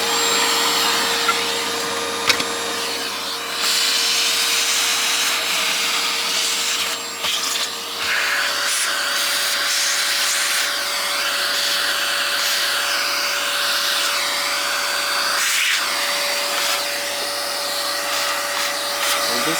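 Continuous loud vacuum cleaner whine and airflow hiss while cleaning the mechanism of a Japanese Panasonic 3DO FZ-10 console, steady throughout with brief dips and knocks as the nozzle moves.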